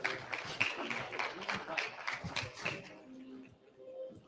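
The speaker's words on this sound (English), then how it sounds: "Give him a round of applause." Conference audience applauding as a speaker comes on stage, with scattered clapping that stays fairly close and lively, then thins and fades out, while voices talk over and after it.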